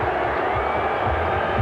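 Rugby league crowd at a 1999 New Zealand versus Great Britain Tri Series match, a broad steady murmur of disapproval filling the stadium after a contested try decision, with a few louder shouts rising from the mass of voices.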